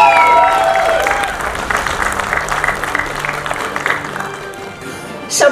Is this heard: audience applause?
yes